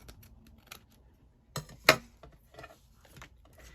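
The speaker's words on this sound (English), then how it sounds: "and then just snip this out." A few snips of scissors cutting paper ephemera for a junk journal, quiet rustling followed by two sharp close cuts and light paper handling, with no talk.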